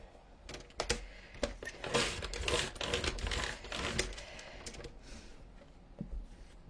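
Paper sheet being cut to 6 inches on a trimmer, a run of sharp clicks and slicing rasps close by, busy in the middle and tapering off toward the end.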